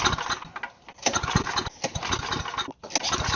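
A snowblower engine turns over, sputtering in uneven bursts that briefly catch and drop out, close and loud.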